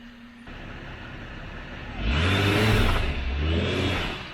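Off-road 4x4 engine, FJ Cruiser or Jeep, revving hard on a rutted trail, a low steady idle building into a loud surging rev near the middle that eases off, recorded close outdoors.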